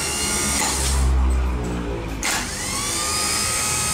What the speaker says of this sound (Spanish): voy a accionar el motor de arranque.